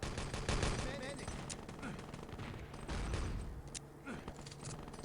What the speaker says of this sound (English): he did get the kill with an MG42